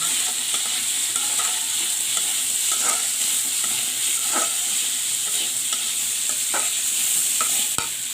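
Steady close-up sizzling of tengra fish frying in a pan as cut vegetables are mixed in. A constant bright hiss carries light intermittent stirring scrapes and taps, and no one speaks.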